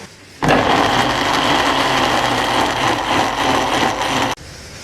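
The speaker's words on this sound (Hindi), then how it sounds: "तो प्याज को भी हम ब्लेंड कर लेते हैं टमाटरों के साथ।" Electric blender whirring steadily as it purées fried onions with tomatoes for a Lahori beef paya curry, a loud continuous motor drone starting abruptly and cutting off sharply after about four seconds.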